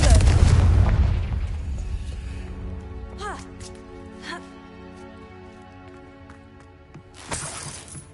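A Confringo fire spell explodes in the video game Hogwarts Legacy: a heavy, booming blast at the start that rumbles and fades over several seconds, followed by faint magical chimes and a voice speaking.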